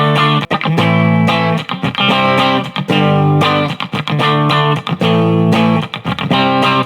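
Electric guitar played through a NUX Mighty Space desktop amp on a preset, heavily distorted chugging riffs in tight rhythmic bursts with short gaps, loud and close, no talking.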